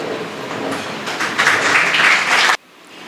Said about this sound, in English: let us all give a hearty round of applause and warm welcome to District Governor Wadi Sauma to the Southland